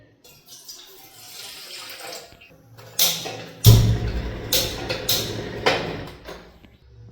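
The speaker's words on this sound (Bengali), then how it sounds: "এই বোতলের জল থেকে, এটা রাত্রে ভরে এনেছিলাম নিচ থেকে, বোতলের জলটা থেকে নিয়ে নেব।" Water pours from a bottle in a kitchen, a few short splashing gushes close by in uneven bursts, with quiet rustling and handling noises between them.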